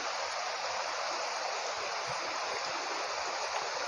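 A waterfall stream on Gunung Ledang rushes in a steady, broadband roar, close and continuous, with no voices over it.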